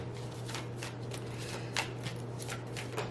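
Quick riffling bursts of a tarot card deck being shuffled, several crisp flurries close by over a steady low hum.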